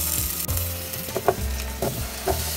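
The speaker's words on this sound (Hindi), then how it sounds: "अभी एक एक करके जितना वेजिटेबल्स हमने लिया है सब फ्राई कर लेंगे।" Vegetables frying one batch at a time in reused oil for a Bengali-style catfish curry make a steady close sizzle, broken by a few sharp stirring knocks and scrapes, with no speech.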